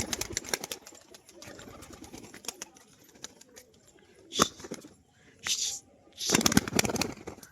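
A female performing pigeon tumbling in flight, with sporadic wing flaps and bird calls that break into louder bursts toward the end, set against quiet outdoor background noise.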